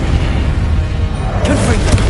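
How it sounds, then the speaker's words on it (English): A Depulso force spell lands in Hogwarts Legacy with a dull, muffled boom amid constant low rumble of combat, a brief brighter burst near the end; a voice speaks faintly in the mix. "Depulso!"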